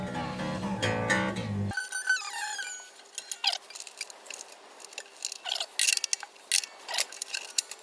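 Metallic squeaks and creaking clicks from a truss rod being tightened a couple of turns on a cheap Encore acoustic guitar, arriving as scattered short bursts after a brief loud musical passage at the start.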